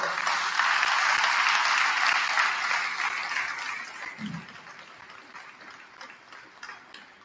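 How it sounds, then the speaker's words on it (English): Sustained audience applause at a college athletics hall of fame ceremony, loud and dense for the first few seconds, then thinning and tapering toward the end with scattered claps. "please give a nice round of applause"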